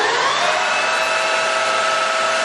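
A Harrison 13x40 metal lathe spinning at 1,700 RPM gives a loud, steady mechanical whir and hum with a constant high whine, close and unbroken.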